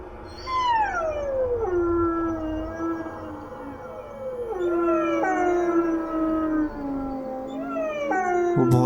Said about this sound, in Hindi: कहीं दूर से कुत्तों की रोने की आवाज़ आ रही थी।